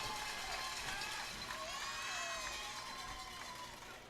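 A crowd at a high school baseball game cheers and shouts with children's voices mixed in, a steady distant roar that swells in the middle and fades toward the end.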